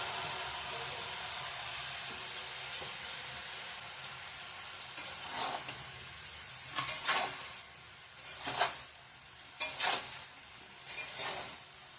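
Chopped bottle gourd with fish head is sautéed in a pan. A soft, low sizzle runs underneath while a spatula scrapes and stirs at irregular intervals, growing busier toward the end, with no talking.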